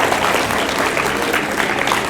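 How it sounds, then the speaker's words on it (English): A university keynote audience bursts into loud, close, continuous clapping, an even, dense patter that holds at full strength without letup or speech. "Now give yourselves a round of applause."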